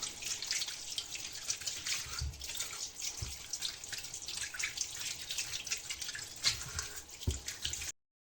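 About 2.5 kg of potatoes are washed under a running kitchen tap, with a steady close stream of water splashing and trickling throughout, punctuated by a few soft knocks of the potatoes.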